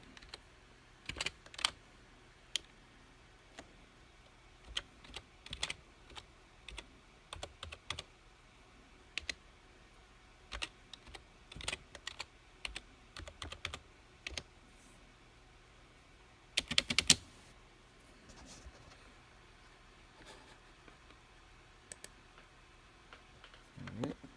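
Keystrokes on a computer keyboard during a Windows 10 Pro install, tapped with one hand in quick irregular bursts, with a louder rapid cluster partway through over a quiet room hum.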